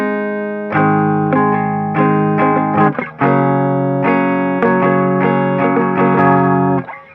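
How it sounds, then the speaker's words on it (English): Loud, heavily distorted electric guitar plays chunky power chords near the bridge in a steady rhythm, with brief pauses between strummed phrases. "Switch the distortion on, go down to the bridge, and then we do these power chords"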